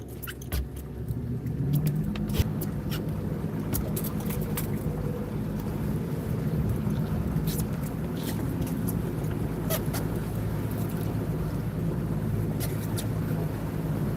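A fishing charter boat's motor idles along a canal on an evening after heavy storms, a steady low rumble running the whole time with wind buffeting the microphone and some small rattles and clicks on top.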